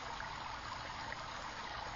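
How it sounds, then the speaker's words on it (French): Steady, gentle rush of a small, shallow tree-lined river about two metres wide, flowing continuously and evenly at close range with no voices. "Il s'agit d'une rivière, un modeste cours d'eau de 2 mètres de large environ, bordé d'arbres."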